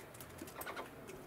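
Soft, faint calls of young partridges, a few gentle chirping notes heard quietly over low background noise.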